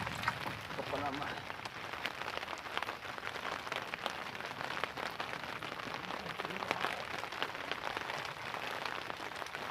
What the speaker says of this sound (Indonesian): hujan membawa berkah